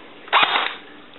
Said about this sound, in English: The M16A4 from Speedy Toys. Semi-auto.